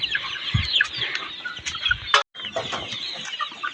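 Chickens on a farm cluck and chatter steadily while being given their midday water, with several birds calling close by and a brief pause partway through.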